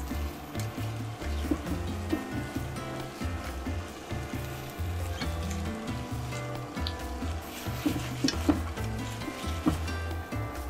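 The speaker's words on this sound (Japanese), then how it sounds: "大葉をさっと炒めます" Shiso leaves stir-fried with chicken breast and lettuce in a pan: a continuous close sizzle with frequent utensil stirs and clinks, alone under faint background music.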